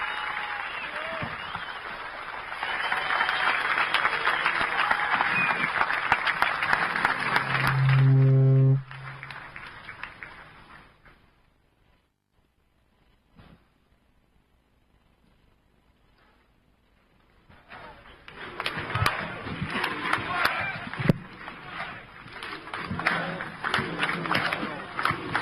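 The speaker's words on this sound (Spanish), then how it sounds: "fuerte nuevamente el aplauso" An audience applauds at the close of Gerardo Sotelo's speech in Durazno. A dense wash of clapping runs for about eight seconds, cuts to near silence for several seconds, then a second loud round of applause swells back in.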